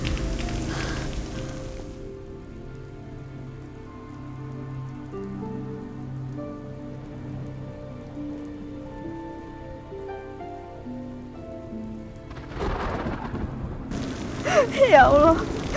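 Rain falls steadily across a dramatic scene, its wash under a sustained musical score, with a louder burst of heavier rain or wind near the end.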